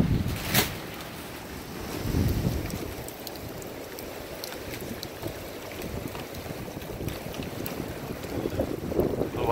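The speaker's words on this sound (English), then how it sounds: "Boy, this is a hell of a storm," Strong storm wind of around 60 mph roars in steady gusts against the microphone, a broad rushing noise that swells and eases across the whole stretch with no voices.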